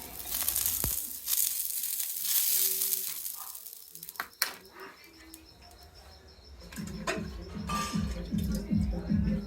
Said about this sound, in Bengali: বন্ধুরা এই যে আমি পিঠের গোলা দিলাম